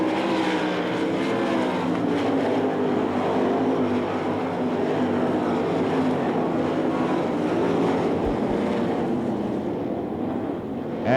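Several sprint cars race on a dirt oval at the Knoxville Nationals, their engines making a steady, loud, continuous roar that fills the whole stretch, with a brief low thump near the end and no talk.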